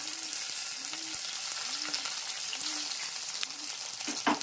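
Onion frying in a pan for a hotel-style soya chunks curry, a steady broadband sizzle throughout with a few soft scraping stirs and a brief louder clatter near the end.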